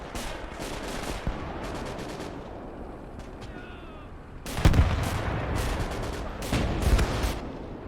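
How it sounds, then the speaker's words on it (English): Artillery fire in the WWII strategy game Gates of Hell, with scattered distant gunfire giving way to heavy booming blasts, two loud impacts standing out over the ongoing battle noise, no talk. "Let's try the artillery now, though."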